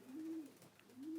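Racing homer pigeons coo softly in a backyard loft, two low throaty rolling coos separated by a short pause, faint and close with a quiet hiss of room noise.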